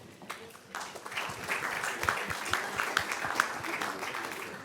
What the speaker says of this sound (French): Et là aussi, on va les applaudir, s'il vous plaît.